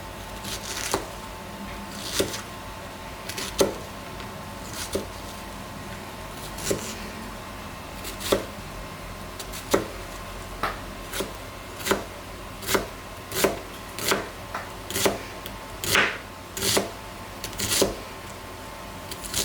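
Knife dicing an onion on a cutting board, a steady run of sharp, crisp chops that speed up into quick regular strokes, close by with a faint low background hum.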